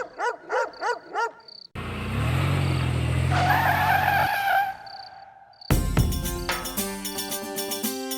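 A car brakes hard with a tire skid: a loud, sustained screech lasting about three seconds, preceded by short dog-like barks and followed by a music sting.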